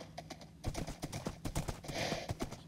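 Horse hooves clip-clop in the video game Minecraft, a quick run of even, close, fairly loud hoofbeats with a faint keyboard-like clicking under them and no talk.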